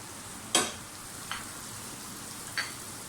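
Ground spices fry in a pan, a steady soft sizzle running throughout with three brief scraping clicks of stirring, close and quiet.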